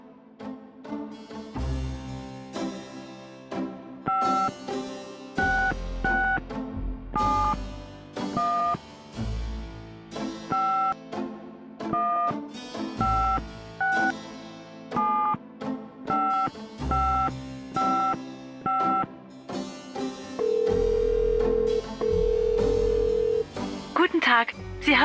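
Telephone keypad tones from the Gabriel Knight video game as an international number is dialed, a series of short evenly spaced beeps over soft background music, ending in a longer sustained tone.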